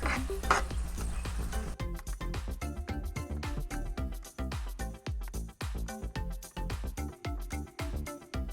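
A spoon stirs cheese into a pot of queso dip, giving a steady run of close, rhythmic scraping and clinking strokes with a faint sizzle underneath and no talking.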